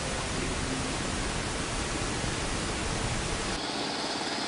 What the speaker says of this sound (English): The technicians call the 100 decibels of sound pink noise.